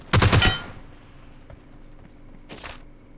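Gunfire in the mobile battle royale game PUBG Mobile: a loud, sharp burst of rapid shots up front, then quieter background rumble and a second, fainter burst near the end.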